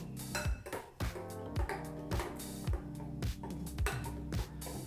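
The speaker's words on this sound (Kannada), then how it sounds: "ಈಗ ಒಗ್ಗರಣೆಯನ್ನು ಹಾಕಿರೋದ್ರಿಂದ ಚೆನ್ನಾಗಿ ಮಿಕ್ಸ್ ಮಾಡಬೇಕು" A spoon knocks and scrapes against a metal vessel while stirring a tempering into buttermilk thambuli, with regular ringing clinks about twice a second, close and steady with no talk.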